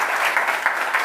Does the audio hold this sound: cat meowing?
no